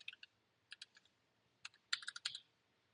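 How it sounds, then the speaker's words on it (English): Keyboard shortcuts are tapped on a computer keyboard in quick, light clusters of clicks with short gaps between, close and fairly quiet in an otherwise silent room. "Same exact thing using keyboard shortcuts."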